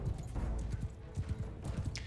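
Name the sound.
horse hooves of horse archers in video game Bannerlord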